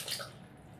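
Tamarind extract pours into a pot of cooked-down, pulpy tomatoes for a traditional egg curry, a brief, soft liquid splash and trickle that fades quickly, close by and faint.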